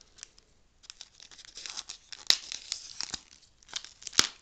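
Packing tape is ripped and peeled off a taped styrofoam block from a parcel, giving close, irregular tearing and crinkling with a couple of sharp cracks, and no talking.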